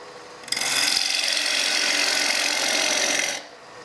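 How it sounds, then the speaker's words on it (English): A bowl gouge hollows a one-piece wooden bowl on a spinning lathe, a loud, continuous scraping hiss that starts abruptly, holds steady for about three seconds, then stops. "First we'll hollow it. There we go. Put the tool rest in. Bowl gouge."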